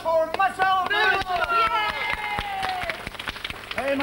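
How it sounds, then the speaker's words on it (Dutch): A studio audience claps loudly on a 1989 Dutch children's TV show, a dense burst of applause heard close with a voice talking over it. "Keihard applaus voor Marcel Rehorst."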